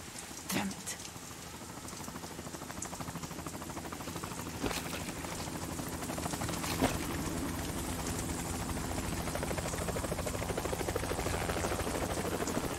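A helicopter in the video game Metal Gear Solid 2 whirs steadily with rhythmic rotor chop and engine drone, building gradually louder, with occasional sharp clanks.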